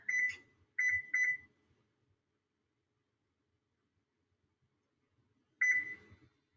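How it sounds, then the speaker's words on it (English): Oven timer beeps while being set on a home oven preheating to 375 for dense Viking bread, three short close electronic beeps in quick succession, then a pause of silence and one more beep near the end. "And then I'm going to set my timer for 1 hour."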